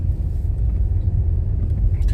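Steady low engine rumble from inside a car on a mountain road between Khajjiar and Chamba in Himachal, continuous and fairly loud with no talk.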